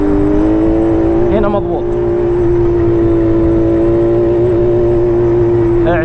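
Yamaha Banshee ATV quad bike engine running at a steady, loud, buzzing idle with a constant tone, while someone talks over it.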